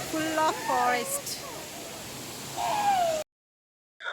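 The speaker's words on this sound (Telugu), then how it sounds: "వాటర్ ఫాల్ అయితే చాలా సూపర్‌గా ఉందండి." Vasthapur waterfall in forest near Nirmal roars as a steady broadband rush, with voices talking over it before it cuts off abruptly.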